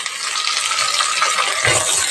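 Fresh mint being stirred into frying bagara rice masala in a pan, with a steady loud sizzle and scraping stir strokes close up, no voices.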